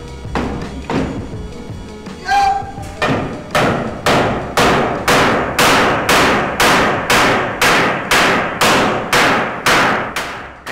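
A riveting hammer strikes metal while repairing a scooter, a steady, rapid series of loud, ringing blows, close by, after a few irregular knocks at the start.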